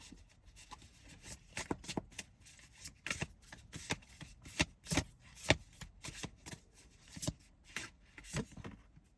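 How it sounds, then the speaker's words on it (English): A deck of Cozy Witch Tarot cards is shuffled close up, the riffles and slaps coming in a steady run of crisp, papery bursts with no talking. "they want me to pull a card. I'm working with the Cozy Witch Tarot."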